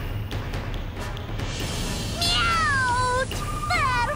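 Cats meow in an English-dubbed BlazBlue Continuum Shift fighting game scene, two or three drawn-out yowls near the end over a low background hum; the meows may be voiced imitations by actors.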